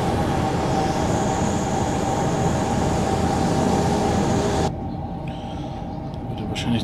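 Intercity train hauled by a class 101 electric locomotive in traffic-red livery passing by in Train Simulator 2020, a loud sustained rushing rumble that cuts off abruptly near the end, leaving quieter cab ambience.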